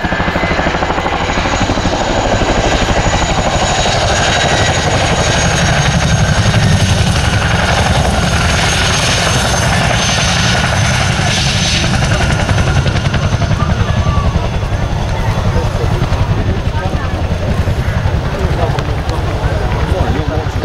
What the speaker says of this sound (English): Ladies and gentlemen, we represent the 2014 Chinook display team.